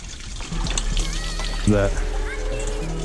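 Fluid draining out of a BMW N54 engine during engine removal, a steady pouring trickle of liquid that grows louder partway through, with a person talking over it.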